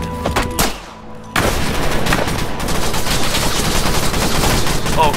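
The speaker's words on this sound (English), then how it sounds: "We have a sniper." Video game gunfire with a sniper in play: a few sharp shots, a short near-silent gap, then a dense, loud barrage of rapid shots and impacts that carries on to the end.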